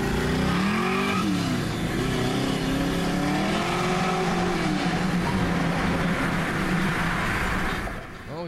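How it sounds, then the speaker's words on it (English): A Chevrolet Camaro Z28 accelerates on the road with a loud, continuous engine roar whose pitch climbs and falls through several gear changes. The sound stays steady and close over rushing road and wind noise and fades at the very end. "I love the Camaro here. This is a Z28."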